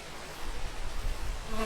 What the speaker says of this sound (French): Des mouches.